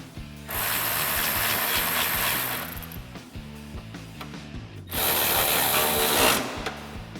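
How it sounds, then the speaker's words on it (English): Ratchet with a 13 mm socket snugging stainless steel cat-back exhaust bolts on a 2015-2017 Mustang GT, heard as two close, loud bursts of rapid clicking separated by a quieter pause, with no talking. "Now we can go ahead and snug them up using our 13 millimeter socket."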